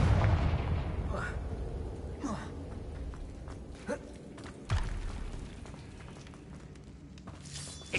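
In Hogwarts Legacy, a Confringo blasting spell sets off sharp explosive bursts. A few separate booms and pops are spread over several seconds at moderate loudness, with footsteps and quieter game sounds between them, and a voice speaks in places.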